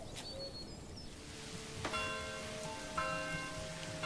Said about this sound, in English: No winds this time, so not a lightning storm, just a peaceful rain.